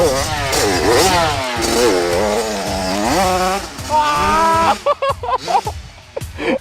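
A dirt bike ridden by a former racer revs hard and close, its engine whining up and down in repeated surges, then choppy bursts and throttle blips near the end, with excited voices mixed in.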